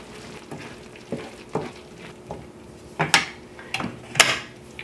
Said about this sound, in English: And just keep stirring it.